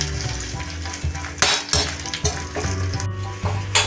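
Peeled garlic cloves sautéing in hot oil in a pan, a dense close sizzle broken by stirring scrapes and a few loud clatters of the spoon against the pan.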